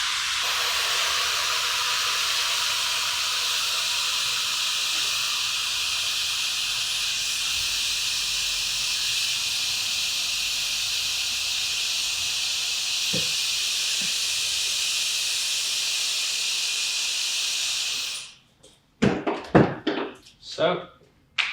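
A hair dryer fitted with a diffuser runs on low speed as a steady, even hiss for about eighteen seconds, then cuts off abruptly, followed by a few brief knocks and handling noises.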